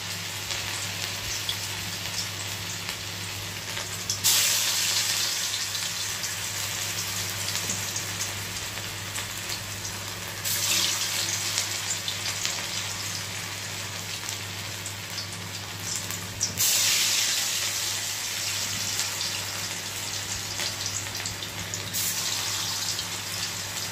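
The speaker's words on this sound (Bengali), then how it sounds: "বড়াটা ভেজে নিই।" Bara fritters fry in a pan of oil over a low flame, a dense, steady crackling hiss that swells in louder bursts every few seconds.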